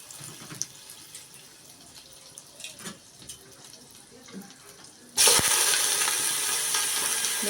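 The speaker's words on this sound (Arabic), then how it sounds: "وبعد كده هدي الفراخ تشويحة." Chicken pieces hit a block of melted butter in a pot over high heat, starting with a sudden loud hiss and sizzle that continues steadily after quieter clinks and kitchen handling sounds.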